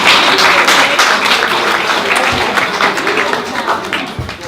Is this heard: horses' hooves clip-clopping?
no